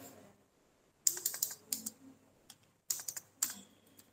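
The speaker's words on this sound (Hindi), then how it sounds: "ऐसे आप यहाँ पे इनकी सैलरी टाइप कर देंगे।" Salary figures typed on a computer keyboard for a school payroll entry, heard as two quick bursts of crisp key clicks separated by short pauses, close and clear with no talking.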